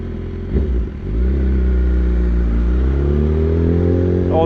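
A BMW S1000RR with a full Akrapovic exhaust system rides through the UK at night, its engine droning loud and close with a brief dip and pickup in revs early on, then holding a steady, rising tone.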